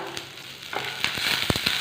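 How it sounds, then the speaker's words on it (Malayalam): Peanuts roasting in a pan for hotel-style chutney give off close, sparse crackles and sharp pops over a low sizzle, getting busier toward the end. "കപ്പലണ്ടി ഒന്ന് പൊട്ടുന്ന ആ ഒച്ചയൊക്കെ കേൾക്കുന്നുണ്ട്"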